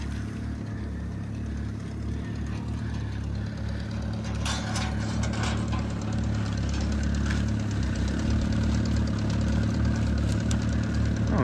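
A half-track tractor's engine runs steadily close by while skidding wood through mud, with a deep throbbing idle and a few brief clanks and rattles partway through.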